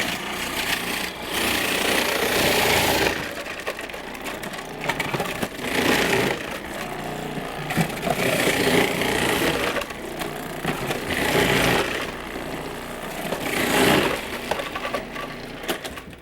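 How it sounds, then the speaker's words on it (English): Loud, coarse rasping and crunching from beets pushed repeatedly across a coarse grater, in rhythmic bursts of scraping strokes with no talking. "So I'm going to shred them first, and I'm using a coarse grade."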